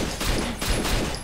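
Dense, continuous machine gun fire in the video game Rainbow Six Vegas rattles loudly and without pause, a harsh burst of rapid shots filling the short stretch.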